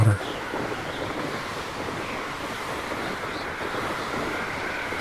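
Ocean waves wash steadily in Hogwarts Legacy, a broad continuous surf roar with a windy hiss, fairly loud and unbroken throughout, no talking over it.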